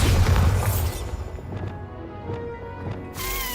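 A Bombarda spell explodes in Hogwarts Legacy, a deep booming blast that rumbles loudly at the start, then fades into quieter game ambience with a few faint pops, and a bright burst returns near the end.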